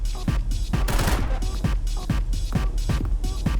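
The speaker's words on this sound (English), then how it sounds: "Oh, then I was shot at." A rapid volley of gunshots rings out in a video game, several sharp cracks in a quick irregular burst at close range, all fired toward the player.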